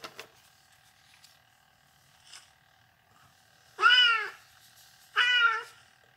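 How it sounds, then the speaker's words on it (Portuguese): Cats near a house where a boat is stored meow outdoors, two loud, close, drawn-out calls near the end after faint scattered sounds and a quiet earlier cry, over a low steady background hum. "Nossa, quantos gatos que tem"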